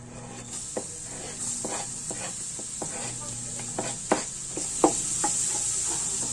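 Garlic sizzles in a hot pan under a constant bright hiss, with scattered scraping taps and stirring knocks from a utensil punctuating the frying.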